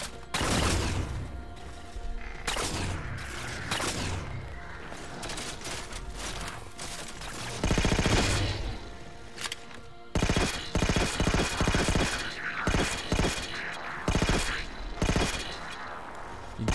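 Gunfire from a weapon in Halo 4, with repeated loud shots and bursts that keep going across the whole stretch, broken by short pauses, alongside clanking weapon mechanics and game effects.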